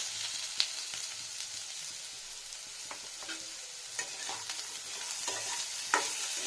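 Green jackfruit frying in a pan gives a steady soft sizzle, with occasional sharp clicks from stirring, and no voices.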